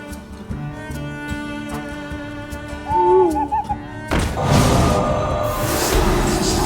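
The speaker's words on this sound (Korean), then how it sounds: "여기에 또 올빼미 걸어줘야 되는데 너무 힘들어요" In the Hearthstone video game, an owl card plays a short hooting sound effect midway, set against layered game music and chimes. A heavy whoosh and thud of card effects follows.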